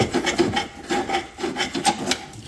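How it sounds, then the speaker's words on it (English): A chainsaw file rasps back and forth against a metal disc bracket on a John Deere lawn tractor in quick, steady strokes, close by and fairly loud, with no voices. "So I got just a chainsaw file."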